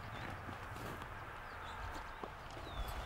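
A young horse walks outdoors while being trained Western-style, its hooves making soft, irregular clopping steps at close range over a steady background, with a few faint bird calls.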